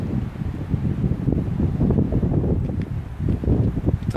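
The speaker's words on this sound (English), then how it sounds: "As long as it stays windy." Strong wind near a tornado at Lake George buffets the microphone in steady, loud gusts, a continuous low roar that swells and dips without pause.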